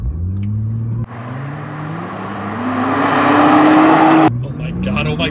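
A 2016 Nissan GT-R with 545 horsepower accelerating, engine tone rising steadily through long gears with a shift break, loud and near, growing more intense before an abrupt cut. A voice is heard along with the engine.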